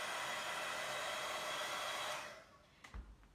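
A heat tool blows steadily and loudly while drying paint on a lid, then winds down and stops, leaving a quiet room with a couple of faint handling knocks.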